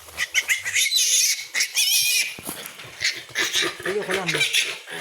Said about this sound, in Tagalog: Guys, malaki po yung baboy.